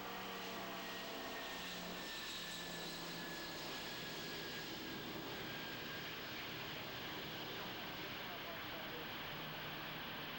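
An aircraft taking off and banking into a very tight right-hand turn near the ground, a loud, steady engine roar that fills the whole clip, with people talking under it.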